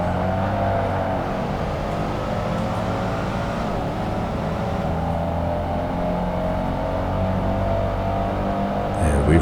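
Race car engines roar in Project Gotham Racing 2 on the Xbox, a dense, sustained engine drone with layered revving tones that stays loud and even throughout.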